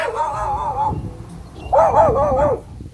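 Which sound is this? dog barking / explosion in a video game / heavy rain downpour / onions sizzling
dog barking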